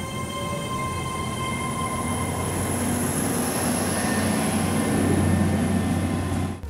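A diesel-electric train rolls along with a steady rumble and a high electric whine held throughout, loud and continuous, easing off at the very end.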